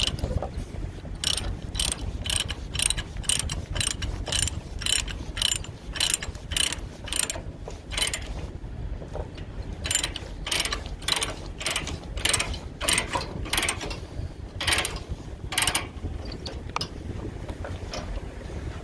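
A ratchet strap securing freight on a flatbed trailer, cranked repeatedly in a steady run of close, loud metallic clicks and clacks that continue throughout with no talk.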